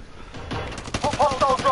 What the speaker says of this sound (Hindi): गोलियां किसने चलाई?